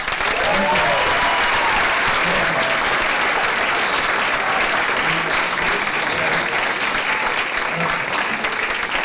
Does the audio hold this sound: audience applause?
yes